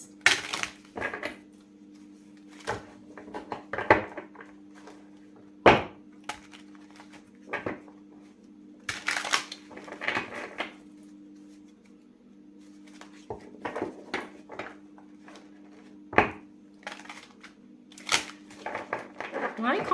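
A deck of tarot cards shuffled by hand gives intermittent soft riffling and tapping bursts, spread irregularly over a low steady hum.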